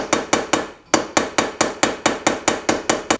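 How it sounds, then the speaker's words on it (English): A hammer taps back a lock washer on a Ford Transit propshaft: about thirteen sharp metallic blows, close and loud, in a quick, even rhythm with one brief pause near the start. "I'm just bending back that lock-in washer"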